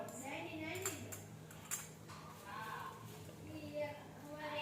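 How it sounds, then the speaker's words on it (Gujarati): Spoons clink against a bowl as someone eats sweet sakar teti melon, light metallic taps scattered through the clip, mixed with background voices and murmur. "પવનભાઈ જો મજૂરી બહુ ભાવે છે બબ્બે ચમચીથી ખાય છે"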